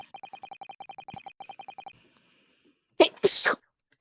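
A single loud sneeze bursts out in the middle of a courtroom game scene, following a run of rapid, regular electronic text-blip beeps that then go quiet before it.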